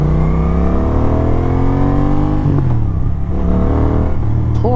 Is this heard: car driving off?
yes